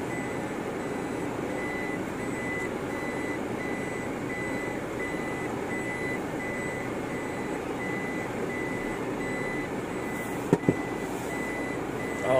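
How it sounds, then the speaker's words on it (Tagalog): A Toyota Innova with automatic transmission sounds its reversing alarm, a steady, evenly repeating electronic beep that runs throughout alongside a constant engine hum, with a couple of sharp clicks near the end. "Alarm lang yung tumutunog."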